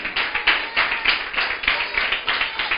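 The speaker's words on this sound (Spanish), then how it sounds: "Aplauda al Señor." A church congregation applauds during a Spanish-language sermon, many hands clapping together in a steady, fairly fast rhythm that sounds dense and close, with no clear speech over it.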